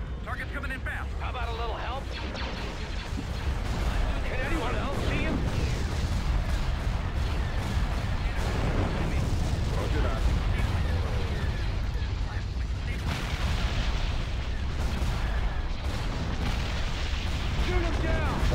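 A space battle video game rumbles with continuous booming cannon fire and explosions, a dense roaring barrage that runs throughout while voices talk over it.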